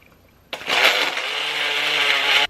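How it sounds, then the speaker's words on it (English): A single-serve portable blender starts abruptly and runs steadily, loud and close, as it churns frozen banana for a thick smoothie bowl, with no voices over the motor. "I still only have a self-portable single serve blender, but that's fine, it should fit."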